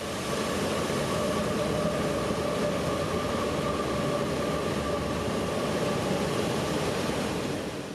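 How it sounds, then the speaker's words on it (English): An intermodal freight train rumbles steadily across a bridge over water, a broad, continuous roar of wheels and railcars holding at the same loudness from start to finish, with no voices. "our next train would sneak up on us, calling as I-007"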